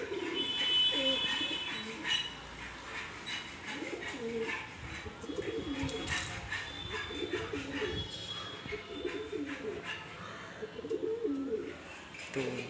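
Pigeons of the Madrasi and Raju Chakrabarty fatka line, handled and shown up close, coo repeatedly in low rolling bursts throughout, with scattered chirps and soft human voices in the background.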